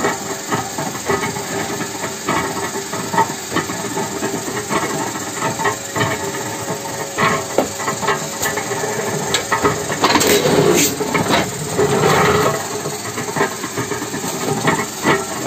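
Cutter machine slicing disposable paper plates, a steady hissing mechanical drone with a louder rasping cutting burst near the end, continuous and close.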